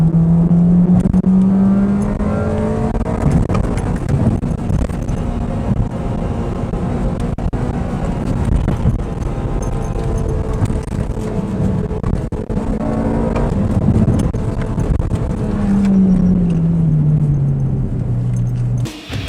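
A Toyota AE86 drives over a bumpy road, with a loud continuous engine drone from inside the car, rising and falling as it revs, under heavy low rumble and rattling from the rough surface.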